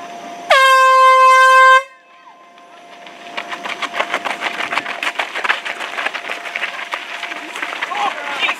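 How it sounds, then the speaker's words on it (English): A loud, sustained air horn blasts for about a second at the start of a 5K race on a muggy morning, then crowd noise and the patter of many runners' footsteps take over as the field leaves the line. "as the horn sounded, the race got off to a rocky start"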